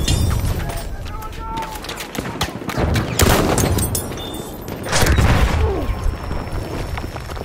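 Enemy machine gun fire in the video game Battlefield 1: a dense run of sharp bursts and booms with other battle noise, loud and close, while a voice speaks over parts of it.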